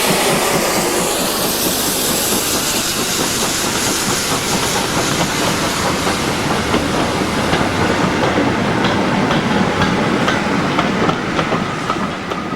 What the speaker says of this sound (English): Pitchford Hall with a Keighley to Oxenhope freight on the Worth Valley in February 2007